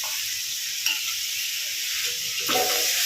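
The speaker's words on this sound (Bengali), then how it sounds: "তারপর ভালো করে এটাকে আবার ভাজা ভাজা করে নিই, যাতে কাঁচা স্মেলটা চলে যায়" Onion, ginger, garlic and green chilli frying in a pan, giving a steady close sizzle with a couple of stirring scrapes.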